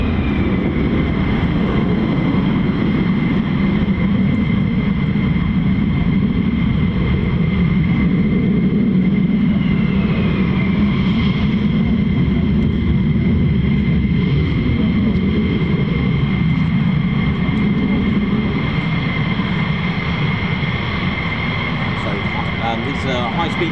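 A jet aircraft on full afterburner during a high-speed taxi gives off a continuous loud, roaring engine drone with a steady whine and deep rumble, constant through the whole stretch.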